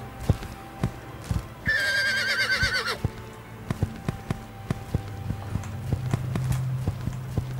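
Horse riding video game: steady clip-clop of hooves with a loud whinny rising over them for about a second, then the hoofbeats continue at an even pace alone.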